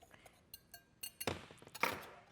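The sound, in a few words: whisking eggs with salt and pepper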